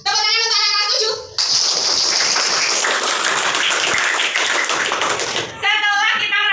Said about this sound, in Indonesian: Tepuk tangan untuk anak kelas 7.